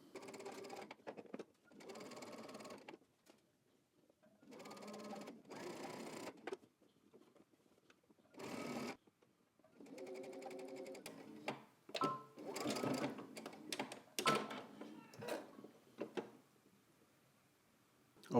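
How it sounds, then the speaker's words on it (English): Home sewing machine stitching in the ditch to attach a collar and neckband on a men's drop-shoulder button-up shirt, in several short bursts of quick needle clatter separated by pauses and soft handling sounds. "we're going to head to the machine and we're going to stitch right in the ditch"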